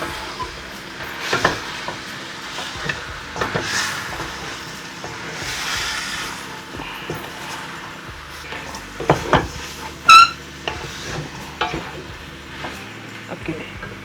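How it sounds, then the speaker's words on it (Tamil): Half a tablespoon of garam masala is tossed into chicken curry in a pan, with irregular scraping and knocking of the spoon over a low background sizzle and one sharp metallic clink near the end. "1/2 மேசக்கரண்டி கரம் மசாலா எல்லாம் போட்டு நல்லா பிரட்டி விடுவோம்."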